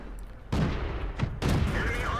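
Tank gun shots in the video game World of Tanks, fired from a tier 3 T-46 light tank. Two loud, broad booming blasts land about a second apart, each with a rumbling tail.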